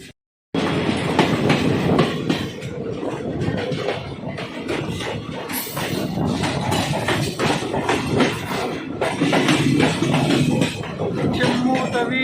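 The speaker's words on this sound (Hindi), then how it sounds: "सात मिनट की देरी से निकली जयपुर से अपनी कॉर्वेट पार्क लिंक एक्सप्रेस।" The Corbett Park Link Express between Ramnagar and Jaipur rolls along the rails with a steady, loud rumble and rhythmic clickety-clack of wheels over joints, heard from on board throughout, with faint voices mixed in.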